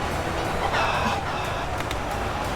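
Many chickens clucking and squawking together in a dense, continuous flock chorus over steady background noise, a crowd of fowl charging forward in the video game Ultimate Epic Battle Simulator 2.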